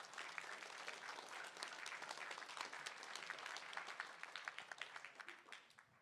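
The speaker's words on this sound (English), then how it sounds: "let's give it another round of applause for Mr. Nofel." Sustained applause from a sizable crowd at a school esports tech event, steady clapping that thins out and fades near the end.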